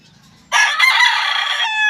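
A stag rooster in a backyard flock lets out a single loud, close crow that starts abruptly and holds for over a second before trailing off, with faint background noise beforehand.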